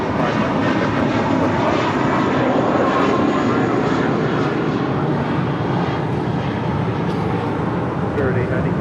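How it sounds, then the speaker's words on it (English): Spirit Airlines Airbus A321 jet departing at an airport, a steady broadband engine roar that holds loud and constant throughout, with faint radio chatter mixed underneath. "This is Spirit Airlines Flight 890 departing to Louisville on an A321"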